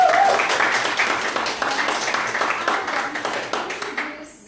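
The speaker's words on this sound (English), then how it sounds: "one more round of applause." Contest audience applauding at a humorous speech contest, a dense, fairly loud patter of many hands that holds steady, then thins and fades out at the end.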